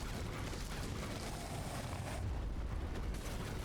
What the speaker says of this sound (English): Those explosions would end me if I weren't protected.